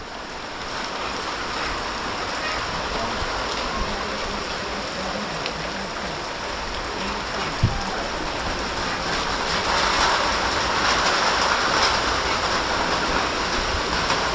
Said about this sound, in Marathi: पाऊस यावर्षी सुरूच झाला जो काय झाला आहे तो सुरूच झाला थांबलाच नाही